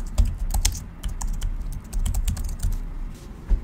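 Fingers typing a search keyword on a computer keyboard, a quick run of close, crisp key clicks in uneven bursts with short pauses, no voices.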